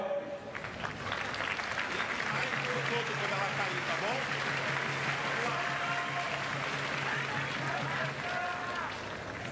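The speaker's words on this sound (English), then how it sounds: "Crowd really getting behind them." Spectators cheer and clap through a Paralympic para judo final at Paris 2024, a broad steady crowd roar with a commentator talking over it.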